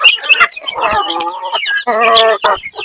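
Several Indonesian village chickens (ayam kampung) cluck and squawk up close in quick, uneven bursts, with short pauses between the calls.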